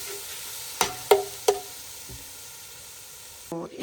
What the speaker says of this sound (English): I will stir fry the ginger and garlic for just 1 minute or so.